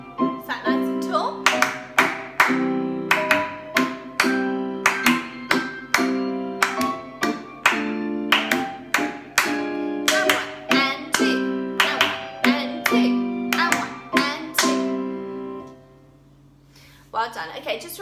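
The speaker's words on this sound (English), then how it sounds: "let's have a go with clapping the polka with the music" Hands clap a bouncy polka rhythm in time with piano music in a Grade 1 ballet class, giving crisp, evenly spaced claps that run throughout before a short pause near the end.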